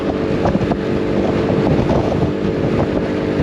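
Steady, heavy wind buffeting roars over a low engine rumble on a Zontes 310M scooter at 70 mph on a motorway, continuous and loud throughout with no voices.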